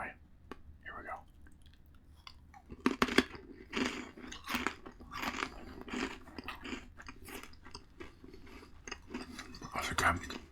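Crunchy dill pickle pretzel sticks, twisted together, chewed close to the mic in bursts of crisp crunching and biting, with soft mouth clicks and quiet talk between bites.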